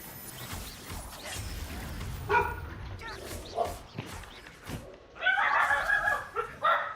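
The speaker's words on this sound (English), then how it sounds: "Puppies." Puppies bark and yip in Hogwarts Legacy, with sharp bursts of barking and whimpers among game clashes and ambient sound, loudest near the end.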